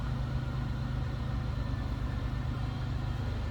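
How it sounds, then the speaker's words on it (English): A 2003 Chevrolet Monte Carlo SS with the 3800 V6 idles steadily, a smooth, even low rumble with no changes in revs, heard close up at the rear of the car. "Smooth running engine."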